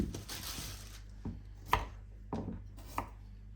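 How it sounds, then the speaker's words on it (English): Sweet potatoes chopped on a chopping board, a handful of distinct knife strikes spaced irregularly over a quiet, close kitchen background with a faint hum; no talking. "So I'm going to start by getting them all peeled and chopped"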